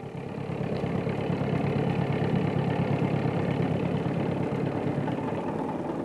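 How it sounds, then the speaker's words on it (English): The engines of the ship Echo run full ahead while crossing the Wairau Bar, a steady, loud, close engine drone and vibration that holds unbroken without talk. "Echo's engines are full ahead."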